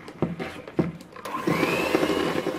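An electric hand mixer whirs through butter and sugar for an eggless chocolate buttercream, first a few bumping knocks, then a steady, close motor drone that rises slightly in pitch.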